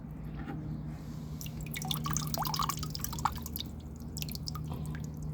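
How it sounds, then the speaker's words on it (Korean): Water dripping from succulent pots after a deep soak, scattered soft drips and trickles over a steady low hum, close and quiet with no voices. "이렇게 푹 담그는 것도 이번이 이제 마지막일 것 같아 얘네들한테는."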